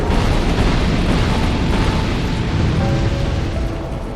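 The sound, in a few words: fire orbs summoned by Aldia exploding, Dark Souls II video game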